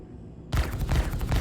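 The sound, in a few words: gunfire from shooting enemies in the video game Star Citizen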